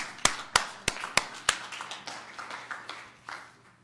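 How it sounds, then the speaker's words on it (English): A small group at a council meeting claps in several sharp, separate claps at first, then a scattered, thinning patter of applause that fades out, fairly close in a quiet room. "that deserves a clap"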